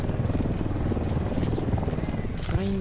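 Helicopter in the video game Ghost Recon Wildlands, a steady rotor chop and engine drone running throughout under a dense mix of game noise and people talking.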